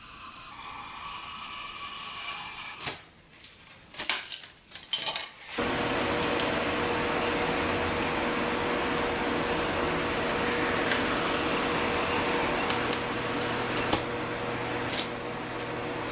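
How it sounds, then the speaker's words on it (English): A cutter slices through white pieces, trimming them to a tombstone shape for a Halloween graveyard prop; a few sharp clattering knocks come first, then a steady, close, continuous cutting noise runs on without speech. "I'm using the cutter again for that cut"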